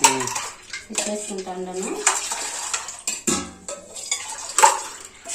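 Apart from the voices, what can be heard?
spoon clinking while adding sugar to ragi malt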